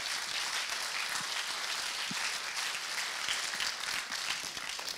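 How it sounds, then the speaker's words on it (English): Audience applause at a live startup event in Exeter: a steady, dense wash of many hands clapping together, fairly distant and even in loudness throughout, with no talking. "Applause."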